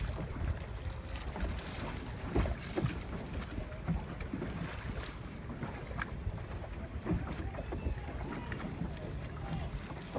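Thistle sailboats rounding a race mark off Mission Bay, San Diego, with wind and water noise, hull and rigging sounds, and voices calling out across the boats throughout.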